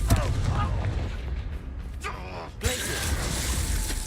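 Bombarda and Confringo spell blasts in the Hogwarts Legacy video game: a sharp burst at the start and another near the middle, with crackling, shattering debris between them and a voice calling out over the action.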